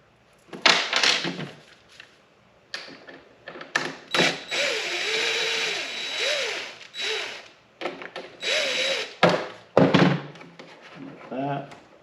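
A hand ratchet clicks and turns out a screw at the antenna base of a Kawasaki VN1700 motorcycle, in short bursts of close mechanical clicking and clunks. Someone talks between and over the tool sounds.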